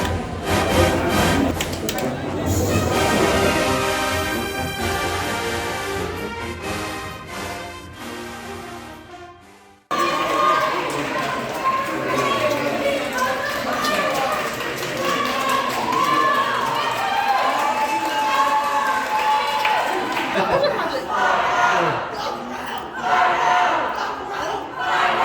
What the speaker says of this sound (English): Can I get 2 claps and a strike?